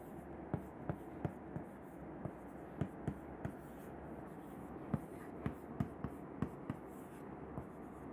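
Chalk or marker tapping and scraping on a board as a lecturer writes an equation during a chemistry lecture on powder manufacturing, a steady series of sharp ticks over faint room hum, no talking.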